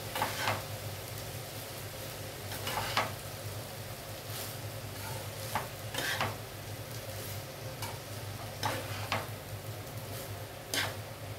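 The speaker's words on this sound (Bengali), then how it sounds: "এটা আমি মিক্স করছি, সবজির সঙ্গে ভাতটা মিলিয়ে দিচ্ছি।" A spatula scrapes and taps through cooked rice with vegetables in a pan, giving irregular soft ticks and scrapes over a steady low hum, close and moderately quiet.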